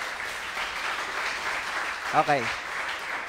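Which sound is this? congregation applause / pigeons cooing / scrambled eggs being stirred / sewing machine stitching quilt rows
congregation applause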